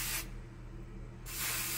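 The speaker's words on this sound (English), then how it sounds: "So I'm just gonna spray it freely throughout my hair." Heat protectant hair product sprays from an aerosol can in a single close, steady hiss lasting about a second, with nearby bursts before and after.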